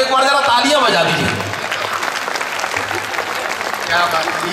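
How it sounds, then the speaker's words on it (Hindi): Audience applause at a Hindi poetry recital, a dense burst of many hands clapping that swells and fades, with a voice talking over it at the start and end. "एक बार जरा तालियां बजा दीजिए"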